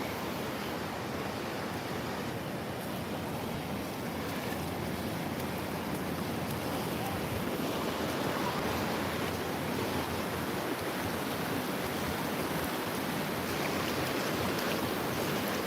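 Ocean waves of about two feet break and wash onto a San Diego beach, a steady, broad rushing roar that holds for the whole stretch with no voices over it.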